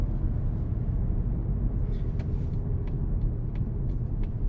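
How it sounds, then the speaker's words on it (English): A 2019 Mazda3 sedan accelerates briefly, a steady low engine and road rumble held at an even level throughout, with faint higher ticks and whooshes over the drone. "One last little acceleration."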